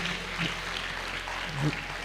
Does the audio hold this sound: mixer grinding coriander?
no